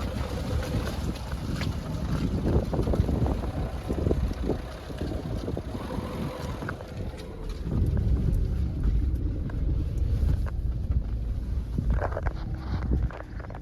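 Wind gusting across open farmland, a steady broadband roar and rumble with microphone buffeting, continuous and fairly loud throughout with no talking.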